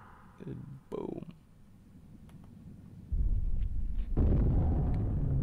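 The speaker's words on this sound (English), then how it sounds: "we have to watch the explosion" Explosion in the Halo 2 video game, a deep rumbling blast that swells up partway through and keeps roaring loudly to the end, following brief talk at the start.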